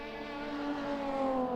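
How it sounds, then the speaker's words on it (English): A loud race car engine hums steadily at Brooklands Circuit in an Assetto Corsa replay, with its pitch rising slightly and its volume building gradually as it heads toward the viewpoint. "Just the noise the car makes is really nice."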